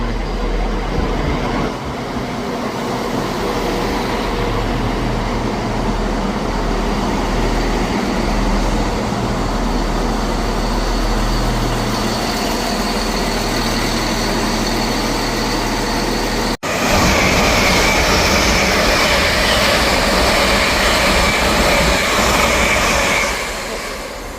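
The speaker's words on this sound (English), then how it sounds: "Arriving in now is the 1216 ScotRail service from Edinburgh Waverley" A ScotRail passenger train pulls into Edinburgh Gateway station with a steady, loud engine rumble that swells further toward the end, with no voices.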